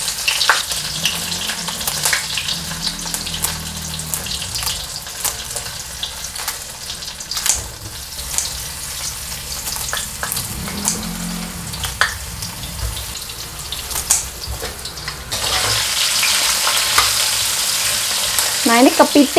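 Four halved crabs frying in a pan, a steady close sizzle and crackle with occasional stirring scrapes, the sizzle swelling louder toward the end.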